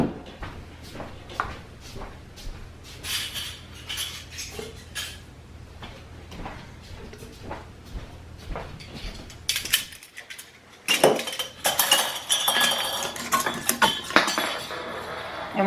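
Metal canning jar rings are gathered up for lime pickle jars, making light clinks and rattles of metal on metal, scattered at first and then a busier jangle near the end, close by with no talking.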